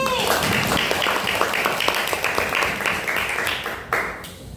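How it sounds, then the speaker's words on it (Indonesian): A room full of people at a coding and artificial intelligence training session claps and applauds steadily for several seconds, the clapping dense and fairly loud, tapering toward the end. "tepuk tangan untuk Ajni."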